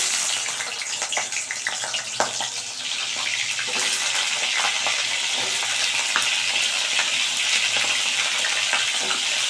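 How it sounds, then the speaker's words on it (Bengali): Pointed gourd, potato and prawns fry in hot oil, a steady loud sizzle with occasional stirring clicks and crackles, close up and without talk. "তো তার জন্য প্রথমে আমি তেল নিয়ে নিচ্ছি, আর তেলটা গরম হলে প্রথমে আমি পটলটা, আলুটা এবং চিংড়ি মাছটাকে ভেজে নিচ্ছি।"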